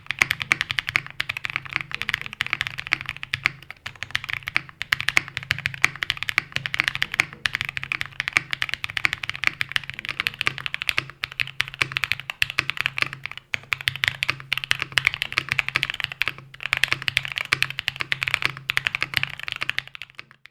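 Steady typing on a CannonKeys Brutal V2 65 keyboard with a POM plate and support beams removed, dense rapid keystrokes clattering continuously at close range with no voices.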